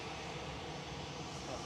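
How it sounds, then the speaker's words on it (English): A Ryanair Boeing 737-800 jet departs Manchester Airport, heard as a steady, distant broadband engine roar with no clear change over the short stretch. "Ryanair 6932 Vienna 9H QBM 737-800 departing now"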